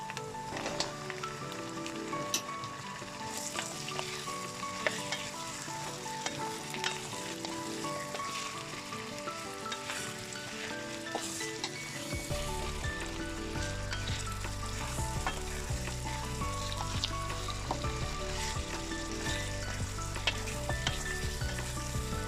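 Beef pieces for namkeen gosht frying and being stirred in a pot, a steady close crackling sizzle with occasional spoon scrapes, the frying growing fuller and heavier partway through, no talk.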